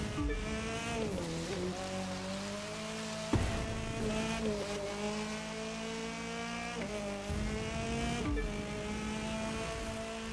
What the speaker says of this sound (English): this car doesn't sound that bad either. This thing probably has a like a 4-cylinder in it